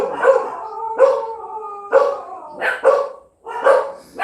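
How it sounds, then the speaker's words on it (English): Several dogs from a household pack of twelve bark and howl close by, with drawn-out howls between sharp repeated barks, loud and without talk. "We have 12 dogs, so that's our alarm system."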